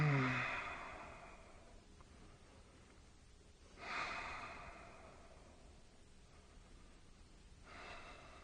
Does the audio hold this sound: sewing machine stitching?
no